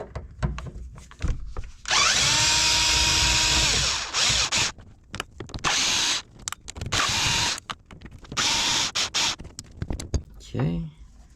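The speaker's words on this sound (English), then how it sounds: "you're going to go ahead and remove these 4 10mm bolts here to gain access to" Power tool backing out four 10mm bolts from the shifter of a Nissan 350Z, several loud whirring bursts of a few seconds each separated by short gaps, close up, with a voice talking in between.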